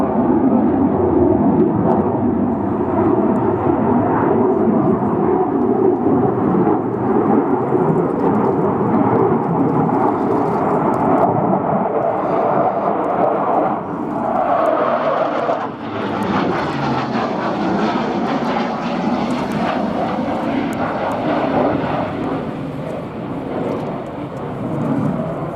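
A Mikoyan MiG-29A fighter of the Polish Air Force with twin afterburning engines roars loudly through a display flight at RIAT 2016, a sustained thundering rumble that swells and shifts in pitch as the jet passes.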